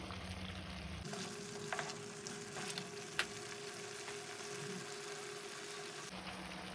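Chicken for chilli chicken frying in a pan over a medium flame, a steady close sizzle that carries on alone with a few light clinks and stirring scrapes.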